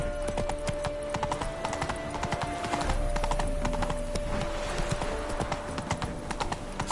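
Roach, Geralt's horse in The Witcher 3 on PS5, gallops along with steady rhythmic hoofbeats under a continuous game soundscape and faint tonal hum, holding a fairly even loudness throughout.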